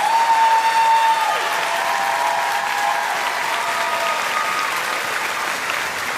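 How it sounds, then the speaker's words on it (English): Sustained applause from a large audience at a school back-to-school convocation, dense even clapping with faint vocal tones early on, steady and fairly loud throughout. "Let's give all these folks a huge round of applause."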